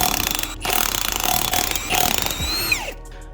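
A Milwaukee power tool with a 1/2 inch 12-point socket loosening a bolt during an MK4 Supra build, heard as a loud, close, continuous mechanical whir and rattle that cuts out briefly and then winds down near the end.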